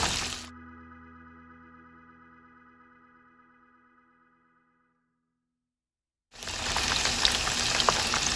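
Chicken strips frying in hot oil make a loud hiss that breaks off after a moment. A fading ringing tone and near silence follow before the sizzle returns strongly.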